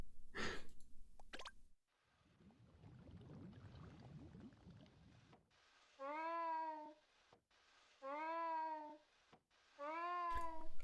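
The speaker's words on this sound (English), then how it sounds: "sounds like the cat is disappointed it didn't get Mousey" A synthesized cat meow sound effect in Game Builder Garage, three drawn-out, descending meows repeating in a steady pattern, clear and close, after a soft breathy murmur.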